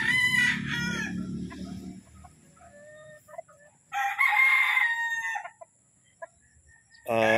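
Gamecock roosters crow loudly and close by in a few separate bursts, with clucking in between and quiet gaps, no talk heard.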